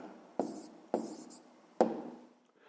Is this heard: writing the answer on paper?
yes